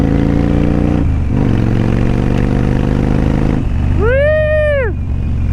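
A motorcycle engine drones steadily and loud during a ride on the road, its pitch shifting slightly, with a brief rising-then-falling tonal whine near the end.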